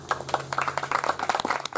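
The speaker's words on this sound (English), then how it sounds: "let's give them a round of applause." An outdoor comedy crowd applauds teachers in the audience with a dense patter of many hands clapping, near and steady, with a low hum running beneath.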